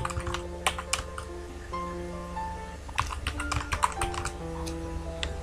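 An institution name being typed on a computer keyboard, a close, quick run of irregular key clicks with a few louder taps, over a faint steady background hum.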